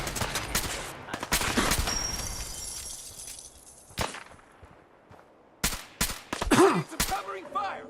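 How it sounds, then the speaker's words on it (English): Bursts of gunfire and rapid machine-gun covering fire in the video game Fallout 4, loud cracks and clattering volleys with shattering impacts, dense at first then scattered sharp shots, with a voice calling out during the fighting. "Need some covering fire, now!"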